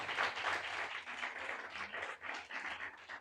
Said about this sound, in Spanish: Denle un aplauso al Señor por esa palabra.